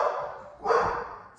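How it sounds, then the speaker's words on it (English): Two short muffled dog barks from a distance, faint and brief. "Sorry, my dogs are barking."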